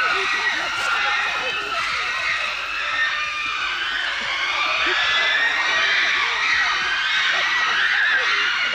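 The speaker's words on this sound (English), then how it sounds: "Everyone, the hunters in the trees and the spectators on the ground, are screaming with excitement." Wild chimpanzees, hunters up in the trees and onlookers on the ground, scream in a dense, continuous chorus of excitement during a hunt kill, loud and sustained throughout.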